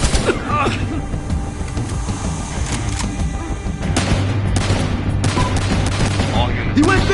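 Gunfire and an explosion in Battlefield Hardline, a dense stretch of rapid shots and heavy blasts, loud and continuous with a deeper rumble taking over midway.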